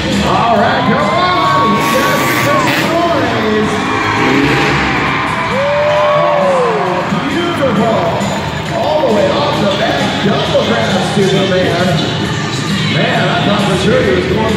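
A crowd at a monster truck nationals event cheers and shouts loudly and continuously, with whoops rising above the din and a commentator talking over it.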